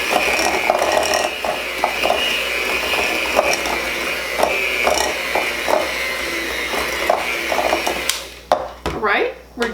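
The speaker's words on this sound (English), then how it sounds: "Have a good hold on the mixer if you're younger and haven't used one" Electric hand mixer whirring steadily while creaming butter with brown and white sugar for chocolate chip cookies, a continuous motor drone with regular rattling clicks of the beaters against the bowl, ending in a few louder clatters.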